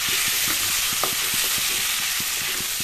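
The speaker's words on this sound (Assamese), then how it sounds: "মাছখিনি এনেদৰে তলপৰ কৰি লৰাই দিম" Pieces of borali fish being flipped and stirred in hot oil, a steady close sizzle broken by regular scraping and clinking strokes of a spatula against the pan.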